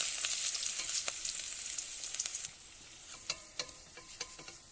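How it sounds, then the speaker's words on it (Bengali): Eggless omelette pieces frying in oil in a kadai, a loud bright sizzle that fades slightly, with scattered crackles and a few stirring scrapes. "দিয়ে কড়াইতে তেল দিয়ে ভেজে নেবো এক একটা করে"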